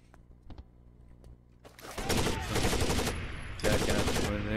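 Gunfire in the video game Rainbow Six Vegas 2: sustained loud automatic bursts in two long runs with a short pause between, after a few faint clicks and taps.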